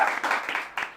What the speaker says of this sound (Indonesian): Boleh nih beri tepuk tangannya.